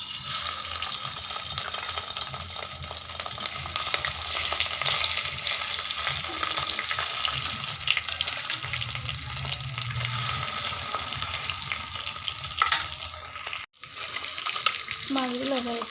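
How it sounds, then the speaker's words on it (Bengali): Rohu fish pieces fry in hot oil in a pan. A continuous dense sizzle holds steady throughout, with a brief splash of water and a clatter near the end. No one speaks. "এবার আমি এই তেলের মধ্যে মাছগুলো ভেজে নেব।"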